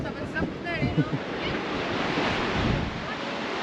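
Strong wind and big sea waves crash and roar at Dziwnówek beach, a dense, steady rush of surf with wind buffeting the microphone throughout.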